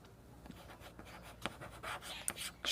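A pen scratches out a math equation by hand on paper during a class-10 geometry lesson, with soft, irregular strokes and taps that are faint and close.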